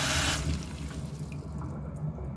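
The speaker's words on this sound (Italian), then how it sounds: "le passo un attimino sotto l'acqua fredda e così si raffreddano" Cold tap water runs steadily as boiled eggs are rinsed under it in a kitchen sink, a close, continuous splashing and hiss that eases slightly toward the end.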